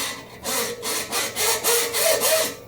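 Wire being cut near its barb end with a hand tool, a steady back-and-forth rasping of about seven even strokes, close and fairly loud with no other sound around it.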